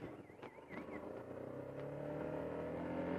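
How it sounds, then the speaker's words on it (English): A motorbike pulls away in first gear on a hill start, its engine note climbing steadily as it accelerates, with a couple of brief mechanical clicks at the start. "I'm going to put the clutch in, I'm going to click down into first gear, check and pull off"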